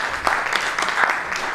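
An audience applauds at the ArtMoments Jakarta 2024 art fair talk show: a steady, moderately loud patter of clapping lasting under two seconds, with faint voices mixed in.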